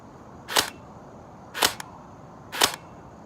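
An airsoft gun fires three separate shots about a second apart, each a sharp snapping pop standing alone over a quiet background.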